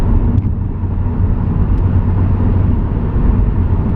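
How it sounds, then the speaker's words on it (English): A 2016 Subaru WRX accelerates in sixth gear, heard from inside the cabin as a loud, steady low engine and road drone that holds evenly throughout. "this car picks up really nice in 6th gear once you get the revs up a bit"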